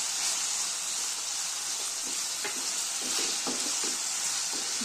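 Chopped tomato sizzles in hot oil for a dhaba-style dal tarka, a constant bright frying hiss with repeated scraping stirs of a spatula in the pan, close up and with no talk.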